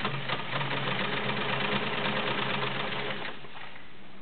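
A vintage Kenmore 1750 sewing machine stitches through a doubled Levi's denim pocket, giving a steady, fast mechanical whir and rattle that runs loud and close, then eases slightly near the end.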